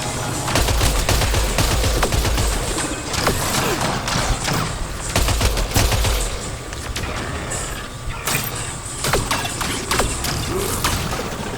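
Rapid gunfire from a sniper rifle and other weapons in the sci-fi shooter Mass Effect Andromeda, loud and dense, with cracks and mechanical clatter running throughout.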